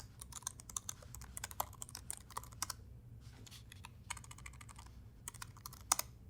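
Quick bursts of close, soft computer keyboard keystrokes as a chmod command is typed, irregular clusters of clicks with short pauses between words.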